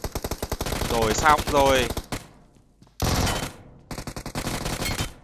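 Rapid automatic gunfire bursts in PUBG Mobile, two loud dense volleys split by a short quiet gap, with a voice speaking briefly over the first burst.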